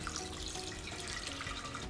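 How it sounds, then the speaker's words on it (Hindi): Water runs steadily from a tap, a continuous close splashing hiss as boiled noodles are rinsed under cold water. "अब इसे निकाल के हम ठंडे पानी से धुल लेंगे।"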